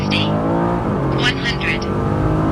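Nissan R35 GTR with FBO upgrades on a quarter-mile drag run, engine droning hard under acceleration with rising gear tones and brief whine bursts, loud and close from inside the car.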